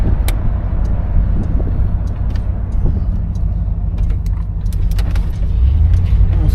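A 1973 Buick Centurion's engine hums in a steady low rumble while driving, loud and close, with road noise and small rattles and clicks throughout and no talking.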